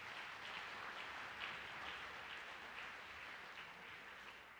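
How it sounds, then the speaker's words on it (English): Audience applause at a principal's reception honoring students, a steady even clapping from a crowd throughout, with no voices. "So how about a round of applause for all the students who are going to be honored tonight."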